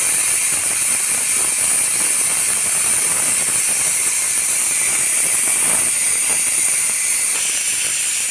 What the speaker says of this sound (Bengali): প্রেশার কুকারে দুধ দেওয়া শুরু হয়ে গেছে